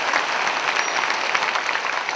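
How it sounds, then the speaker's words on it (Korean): Dense, steady applause from a congregation at an evening worship service, loud and continuous with no speech. "박수를 다시 시작."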